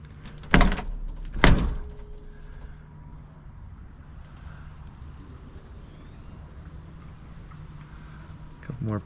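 The door of a 1977 Toyota Land Cruiser FJ40 restomod gives two loud, close metallic clunks near the start, followed by quiet handling sounds and a faint low hum.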